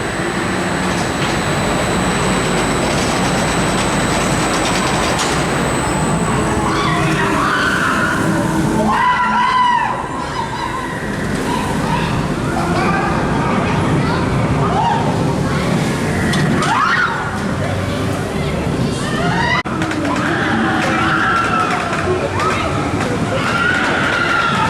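Riding Predator, a Gerstlauer Eurofighter roller coaster at IMG Worlds of Adventure: continuous loud wind roar and rattling track rumble close to the mic for the whole run, with voices shouting over it.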